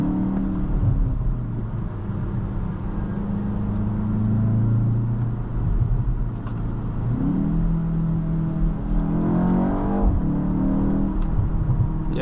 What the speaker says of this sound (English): It sounds really good for a 4-cylinder engine, that's for sure.